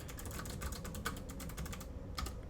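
Typing on a HAVIT HV-KB395L low-profile mechanical RGB keyboard, a steady run of close, crisp clicky keystrokes with no talking.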